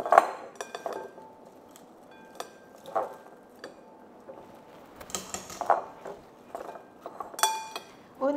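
Cauliflower tossed in a metal or glass bowl before air frying, scattered clinks and scrapes of utensil against bowl, close and intermittent, with light kitchen sounds between.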